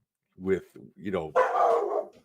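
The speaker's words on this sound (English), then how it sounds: "that's a dog" A pet dog barks up close, a few sharp barks followed by a longer yelping, whining burst, mixed in with a man's nearby speech.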